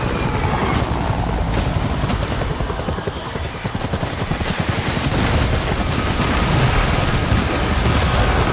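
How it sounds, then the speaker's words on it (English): A helicopter descends in the video game Death Stranding, its rotor beating in a loud, steady, rapid chop that fills the whole stretch without pause. "Helicopter's coming down."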